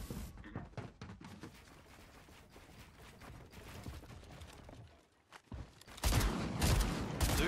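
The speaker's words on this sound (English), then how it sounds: "Dude, why is my gun shooting?" Gunfire in the video game Fortnite: dense, rapid crackling shots rattle on and off, drop briefly near-silent, then return as a loud, sustained burst of shooting at the end.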